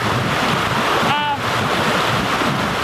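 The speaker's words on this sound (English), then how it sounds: "So this isn't the bottom of the stream, but it pools right here. And then runs off." Cold spring snowmelt from a mountain stream pooling and running off below Heart Rock in the San Bernardino Mountains, a steady, loud, broadband rush of flowing water with wind buffeting the microphone.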